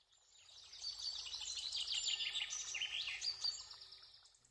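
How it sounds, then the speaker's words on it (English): Oriental darter calling, a busy stretch of overlapping high chirps and twitters that holds steady through the clip, with a low rumble underneath and no speech. "oriental darter,"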